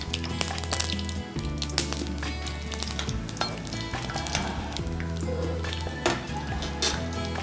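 Whole spices (cinnamon, cardamom, clove, star anise and fennel) frying in oil give a crackling sizzle, broken by metal utensil clinks and scraping against the pan, close and busy with no talk.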